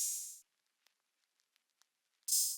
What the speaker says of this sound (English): that's the project open hat from Mike Beats Drum Kit Volume 2.